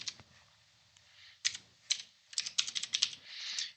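Computer keyboard keys are tapped in short bursts while a spreadsheet formula is entered, close, crisp clicks with pauses between clusters and a quick run of keystrokes near the end.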